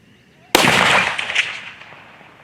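A 7mm Remington SAUM rifle fitted with a muzzle brake fires once from a rear-bag rest, one sharp, loud crack followed by a roaring decay that fades over about two seconds, with no talk.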